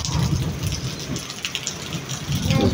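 A heavy rain and windstorm roars steadily and loudly in the afternoon, with dense rainfall pattering on surfaces and low rumbling swells beneath it throughout.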